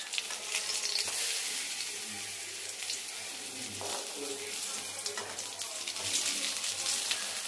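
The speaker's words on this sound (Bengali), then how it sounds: "এদিকে কড়াতে বসিয়ে দিয়েছি বেগুন ভাজা" Eggplant slices frying in a wok give a continuous close sizzling hiss, steady throughout with slight swells in intensity and faint background noise.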